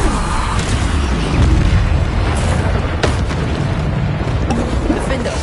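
Bombarda explosion spells in Hogwarts Legacy go off as loud, dense booms in quick succession, layered with crackling bursts and game effects, and no voice is heard.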